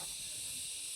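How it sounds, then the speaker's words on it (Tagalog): Steady, high-pitched insect drone of crickets chirping beneath the trees on Mt. Kintung in the Porac mountains, a continuous, even hiss-like buzz that holds unbroken throughout. "Yung naririnig mo, yung huni ng mga kuliglig,"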